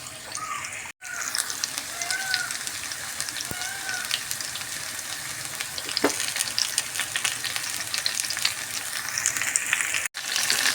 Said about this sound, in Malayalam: ഒരു പാന് വെച്ച് അതിലേക്ക് കുറച്ച് ആവശ്യത്തിന് വെളിച്ചെണ്ണ ഒഴിച്ച് ഈ മാങ്ങ പീസ് തക്കാളി പച്ചമുളക് ഒന്ന് നന്നായിട്ടൊന്ന് നമുക്ക് വേവിച്ച് കൊടുക്കുക